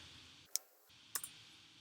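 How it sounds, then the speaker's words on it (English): Keyboard shortcut keys are pressed on a computer, two or three faint quick clicks close by against a quiet hiss. "So I did Command T and then Command V and pasted the URL in."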